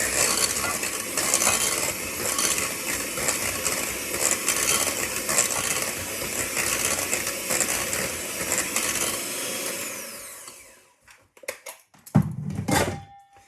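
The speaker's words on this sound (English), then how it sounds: "And I'm going to give this a whisk." Chocolate filling for profiteroles is whisked in a bowl: continuous dense, loud mechanical whirring that stops abruptly near the end, followed by a few clinks and knocks.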